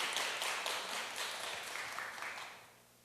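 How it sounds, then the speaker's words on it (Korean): Audience applause at a citizens' cultural city camp in Gochang: a brief burst of dense, steady clapping from a seated crowd that fades out after about three seconds. "우리 박수로 한번"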